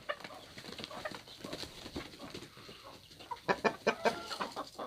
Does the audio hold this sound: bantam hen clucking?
yes